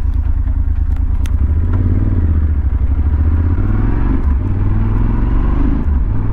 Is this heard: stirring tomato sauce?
no